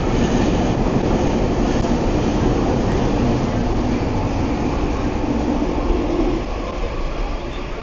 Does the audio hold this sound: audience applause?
no